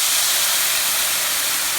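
Half a cup of white wine hits a hot pan of onions and sizzles in a loud, dense, continuous hiss over a brief moment.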